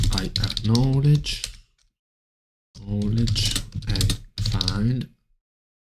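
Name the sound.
computer keyboard typing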